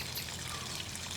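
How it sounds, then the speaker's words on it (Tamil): Water poured over washed raw chicken sitting in a strainer in a village outdoor kitchen, a steady close splashing rush with no pauses, alone without talk. "நம்ம ஜல்லடான கூடல அப்படியே தண்ணி ஊற்றிடுவோம்."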